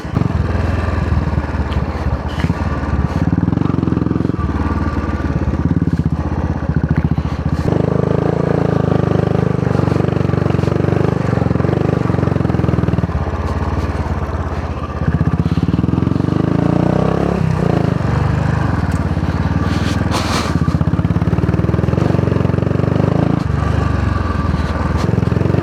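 A motorcycle engine runs loud and close on a ride, holding a steady, throbbing drone throughout with only slight dips in level.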